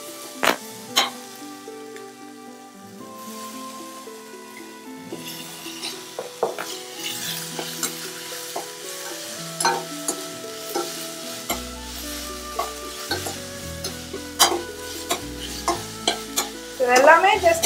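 Ginger garlic paste sautéing in a pan for chicken drumstick soup, a soft continuous sizzle with repeated spoon-against-pan clinks and scrapes that grow sharper and more frequent toward the end, over background music.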